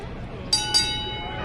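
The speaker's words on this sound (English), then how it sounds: "And there's the opening bell." A wrestling match opening bell strikes twice in quick succession, bright ringing clangs that decay over a crowd-filled arena background.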